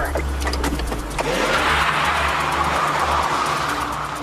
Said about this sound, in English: The car powers into a hail of gunfire.